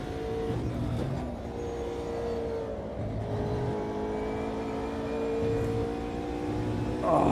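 Car engine in a sim racing video game, a steady buzzing drone with layered harmonic tones that holds through the clip and swells briefly at the end, with no talk.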